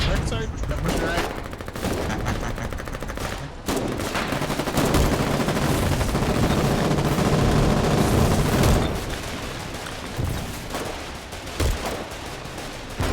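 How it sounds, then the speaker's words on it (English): Heavy, sustained automatic gunfire from an unfamiliar trench-destroying weapon in the war game Foxhole, rapid bursts and booms filling the whole stretch at high volume, with voices shouting briefly between volleys. "I've never seen that gun before."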